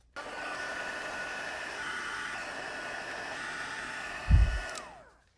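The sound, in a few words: heat tool blowing for heat embossing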